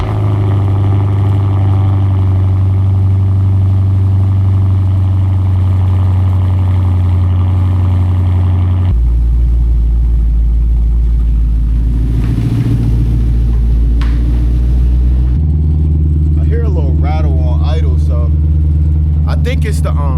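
A 500 hp Lexus RC F with an RR Racing mid pipe and axle-back exhaust cold starts and idles. It gives a loud, deep, steady engine drone that shifts pitch twice as the idle settles. A voice speaks over it toward the end.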